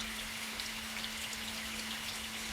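Heavy rain pours in a steady, dense hiss, with a faint low hum running underneath.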